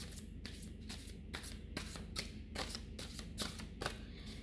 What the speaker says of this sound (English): after shuffling the deck quite a lot